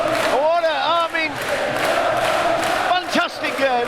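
Football crowd roaring and chanting at a Sheffield Wednesday v Bristol City match, a loud sustained mass of voices with whoops and yells rising and falling.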